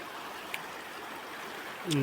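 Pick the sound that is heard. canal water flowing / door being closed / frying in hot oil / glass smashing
canal water flowing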